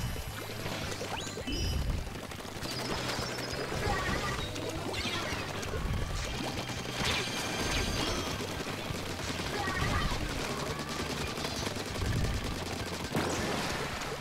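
Inkzooka special weapon firing in the Splatoon video game on Wii U, repeated bursting splat shots amid busy game effects and splashing ink, with someone talking over the action.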